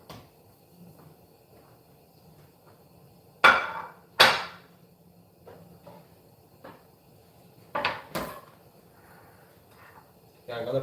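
A knife chops green plantains on a cutting board, giving a few sharp, irregular thuds in two pairs against a quiet kitchen background.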